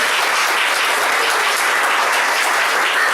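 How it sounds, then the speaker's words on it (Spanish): A church congregation gives strong, sustained applause during a worship service, producing an even, dense wash of clapping that stays loud from start to finish. "Rinda un fuerte aplauso a Jesús"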